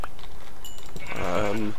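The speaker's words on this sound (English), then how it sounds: "There's some more sheep." A sheep in the video game Minecraft gives a single short bleat near the end, heard against quiet game background and soft keyboard clicks.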